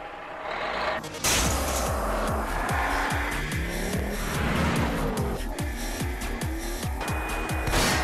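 A truck in an online video game drives hard with a continuous engine roar, repeatedly screeching and skidding its tires, loud and close throughout with crashing bursts.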